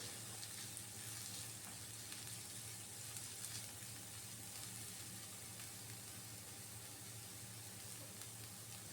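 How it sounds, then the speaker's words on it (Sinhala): Onions tempering in hot oil in a pan for a potato masala bun filling, giving a steady, even sizzle and crackle that runs unbroken and fairly soft throughout, with no voices. "ඊළඟට අපි මේක හොඳට තෙම්පරාදු කරගමු"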